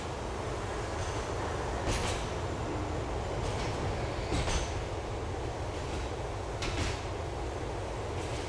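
A subway train ride in Grand Theft Auto IV: a steady, dense rumble of rolling wheels and carriage noise, with periodic clanks and rattles from the cars, continuous and fairly loud.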